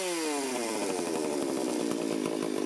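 A vintage Stihl 038 Magnum chainsaw runs loud and close while its carburetor is tuned, its whining engine note climbing steadily as the revs rise, alone with no voices.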